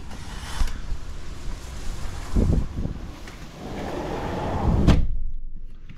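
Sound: strong wind

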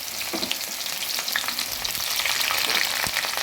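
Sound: onion, garlic and green chili frying in hot oil

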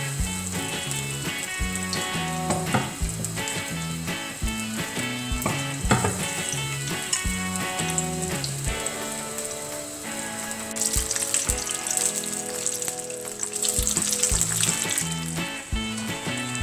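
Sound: mushrooms in batter deep-frying in oil

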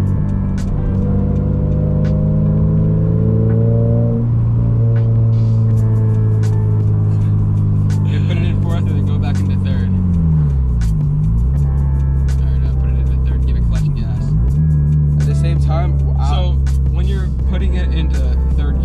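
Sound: modified Toyota GR86 engine revving while shifting gears

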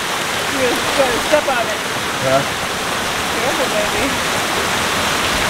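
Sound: running water splashing

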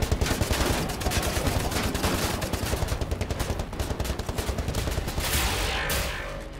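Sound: gunfire and laser weapon in video game Wolfenstein

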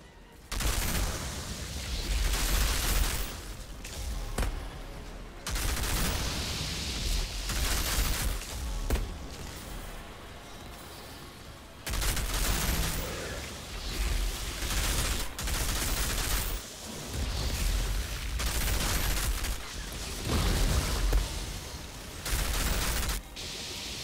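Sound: gunfire in a video game

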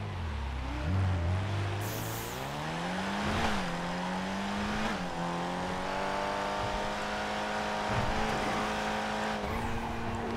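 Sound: car driving in GTA 5 video game

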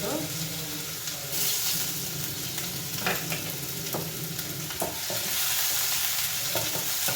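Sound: garlic frying in oil after mustard seeds

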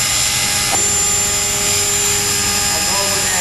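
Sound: autonomous indoor UAV helicopter based on TREX 450 flying

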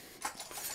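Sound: IKEA silverware set being handled

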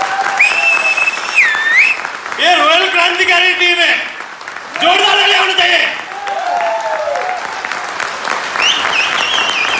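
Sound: audience clapping at a speech

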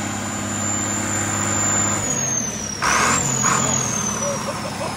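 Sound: old bulldozer engine running

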